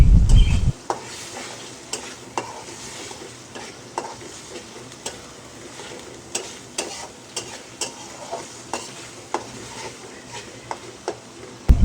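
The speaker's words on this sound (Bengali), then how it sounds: "রসুন আর পেঁয়াজ বাটা দিয়েও ভালো করে ভেজে নেব" Onion and garlic paste frying in a pan for a jackfruit-seed and dried-fish mash, a steady low sizzle punctuated by regular scraping stir strokes and spoon clinks, close and continuous.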